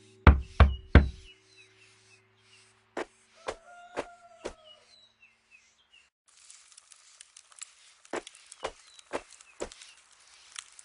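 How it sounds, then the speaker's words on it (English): Knocks on a front door in the game Playing History, sharp raps in small groups, loud opening bursts then quieter clusters spread over several seconds against a faint background. "Someone at the door."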